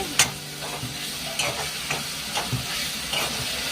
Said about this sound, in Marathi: मम्मी आता बोंबील तेलामध्ये परतून घेते